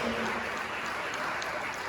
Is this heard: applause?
yes